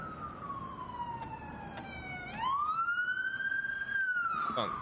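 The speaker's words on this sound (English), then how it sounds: "That sounds more like an ambulance." An ambulance siren wails, sweeping slowly down and then back up in pitch, fairly distant over faint background noise during a hailstorm in Charleston, West Virginia.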